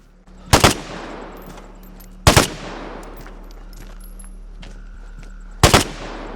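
Three sharp, loud gunshot bursts ring out in the video game Vigor, spaced irregularly with quiet ambient hum between them and short decaying echoes after each blast.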